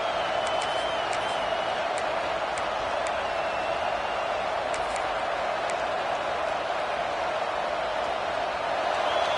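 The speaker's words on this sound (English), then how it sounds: "Decibels rising as the crowd gets behind this defense on third down." A football stadium crowd roars steadily on a third-down defensive play, a dense continuous wash of distant noise with faint whistles on top.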